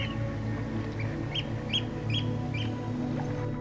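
Migratory waterbirds calling at a high-altitude glacier-fed wetland lake in Ladakh, with short repeated chirps and quacks over a steady ambient hum and background music.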